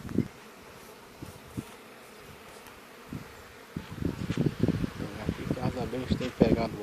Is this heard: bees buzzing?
yes